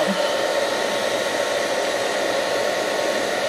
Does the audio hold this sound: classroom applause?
no